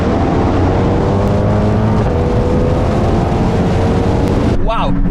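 A Porsche 718 Cayman S on overboost accelerates hard on a street, its engine a loud, sustained roar that climbs steadily, then breaks into a sharp rising surge near the end, with voices underneath.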